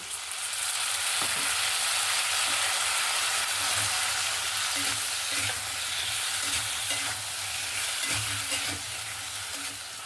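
Catla fish curry with amchur being stirred in a hot pan, a continuous oily sizzle with scattered scraping clicks of the spatula against the pan, close and steady throughout.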